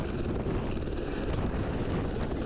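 Helicopter standing on snow in near-freezing weather, its rotor and engine roar steady and dense throughout, close and continuous with no talk over it.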